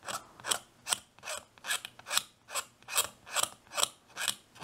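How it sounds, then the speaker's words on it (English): A blade scrapes a plastic part flush on a 1/25 scale 1970 Chevrolet fire truck model, about a dozen rhythmic rasping strokes, close and fairly quiet, with no talk. "Since I'm doing it this way, it's kind of hard to get it uniform scraping."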